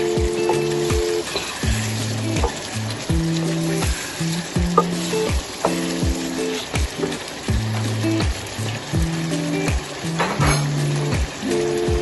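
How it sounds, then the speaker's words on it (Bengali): Mutton and potato pieces stir-fry in spices in a hot pan, giving a steady sizzle broken by rhythmic scraping strokes of a spatula, close and loud with no talking. "ভালোভাবে কষাচ্ছি, যতক্ষণ না আরো শুকনো শুকনো হয়, মাংসের গায়ে মশলাটা মেখে যায় ততক্ষণ।"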